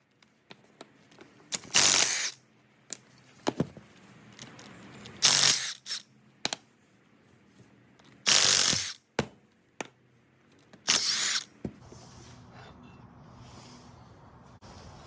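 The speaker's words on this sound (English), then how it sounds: "But now I get the front housing off." Tools work on a manual JZ transmission to take off the front housing, with loud bursts of ratcheting and metallic clatter separated by short quiet gaps, close to the microphone.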